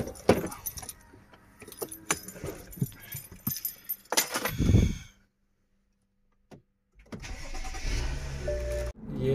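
A BMW car engine starts with a brief cranking burst and catch, preceded by jangling keys and door clatter, then settles into a steady near idle after a short quiet pause.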